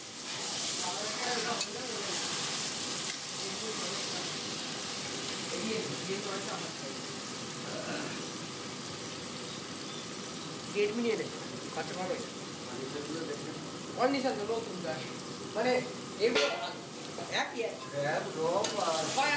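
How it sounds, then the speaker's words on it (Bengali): Marinated chicken is added to a pan of fried tomatoes for a spicy chicken kosha, sizzling steadily while being stirred, with scraping and clattering pan sounds breaking through at intervals. "এবার আমরা চিকেনটা দিয়ে দিলাম, ম্যারিনেট করে রাখা চিকেনটা দিয়ে দিলাম"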